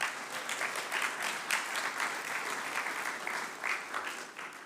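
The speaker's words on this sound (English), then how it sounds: "So, a big round of applause for faculty, staff, and administration of UW Tacoma." Lively applause from a graduation hooding ceremony audience, many hands clapping at once in a thick, slightly uneven wave that stays strong throughout with no voices on top.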